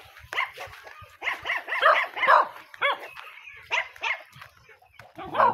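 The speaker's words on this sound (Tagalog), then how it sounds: "Bago yung aso sa atin. Pinahol-tahol po tayo dito." A dog barks repeatedly in quick, uneven bursts, close and fairly loud, outdoors while someone is out walking.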